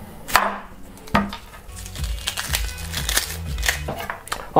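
Chef's knife chopping onions on a board for a ginger chicken dish, a series of crisp, uneven knocks close by, with talk in the background.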